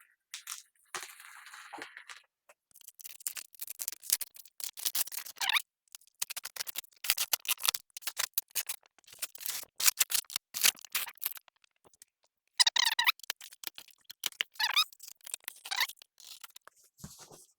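A Brewzilla Gen4 65L package is unboxed up close, with bursts of crinkling, scraping and tearing from cardboard and plastic wrapping, separated by short quiet gaps.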